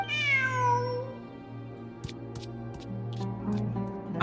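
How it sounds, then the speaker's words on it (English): A cat in the video game Genshin Impact gives a clear, drawn-out meow at the start, followed by softer background game sounds and small clicks. "Let's follow the damn cat."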